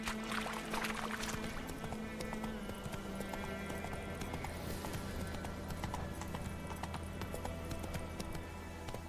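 Roach the horse from The Witcher 3 trots with a steady clip-clop of hooves over ambient game sound, the rhythm continuous and moderately close.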